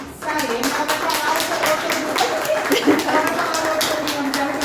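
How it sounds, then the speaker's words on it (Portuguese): Audience applauding at a women's physical and intimate health panel, a continuous burst of close hand clapping lasting several seconds with a voice audible over it. "Continue as palmas!"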